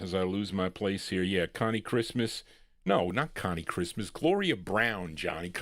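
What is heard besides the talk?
No distinct noise like a dog, phone or traffic.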